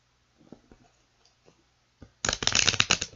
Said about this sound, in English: Alright, so a couple more shuffles.